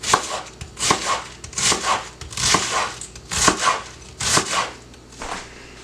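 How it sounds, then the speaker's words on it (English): A knife cuts thin slices through a head of cabbage on a board for sauerkraut, making a steady series of crisp, close chopping strokes in regular bursts with no voices. "And then you start cutting it thin."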